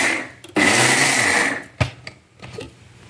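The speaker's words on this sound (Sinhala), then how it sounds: "හරි guys දැන් ඉතින් අපි බ්ලෙන්ඩ් කරනවා." A blender grinds vada batter in one sustained, loud whirring burst of about a second, then cuts off, followed by a few short knocks and quieter bursts of motor noise.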